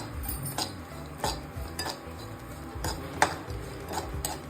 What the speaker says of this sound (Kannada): ಈ ರೀತಿಯಾಗಿ ಒಂದೊಂದೇ ಡ್ರೈ ಫ್ರೂಟ್ಸನ್ನು ಹಾಕಿ ಹುರ್ಕೋಬೇಕು